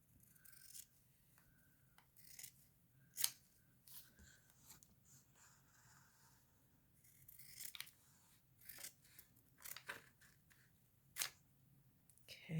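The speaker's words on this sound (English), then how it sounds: "I started cutting into that paper" Scissors snip through paper in a series of sharp, separate cuts with irregular spacing between them, sitting close and fairly quiet and set against a crafting workspace with no talking.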